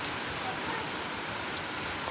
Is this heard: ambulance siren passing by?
no